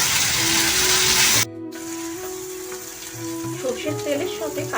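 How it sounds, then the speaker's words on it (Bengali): Mutton liver sizzles and fries in hot mustard oil, with a steady crackling hiss, a brief pause, then renewed sizzling as it is stirred close up. "তারপরে এর মধ্যে আমি মাটন লিভারটা দিয়ে দেব, দিয়ে এটি খুব ভালোভাবে এবার কষাতে হবে"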